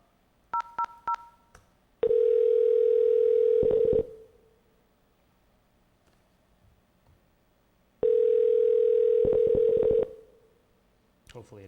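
A telephone dials in with a quick burst of keypad tones, followed by two long, steady ringing tones separated by a pause of quiet line hiss.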